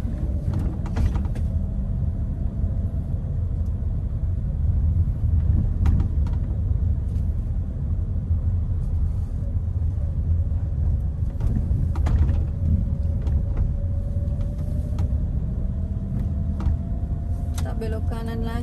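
Manual car driving in second gear with the clutch engaged, a steady low engine rumble and road noise running throughout, with a faint rising engine tone and occasional small clicks and knocks from the cabin.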